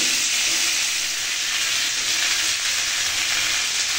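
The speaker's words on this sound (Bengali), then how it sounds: "তরকারিটা আমার ভালোভাবে কষানো হয়ে গেছে" A vegetable curry with mixed winter vegetables is sautéed in a pan, giving a loud, continuous close frying sizzle with a dense hiss and faint stirring underneath.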